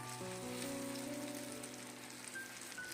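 Starch water sizzling in a hot pan around frying bok choy and tofu buns, a steady dense hiss with faint crackles, close and fairly quiet, with no talking.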